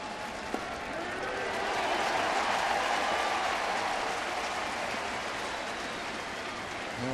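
Crowd at a baseball stadium applauding during a Florida at St. Louis game, a broad sustained wash of clapping and cheering that swells slightly and then holds steady, loud and without break.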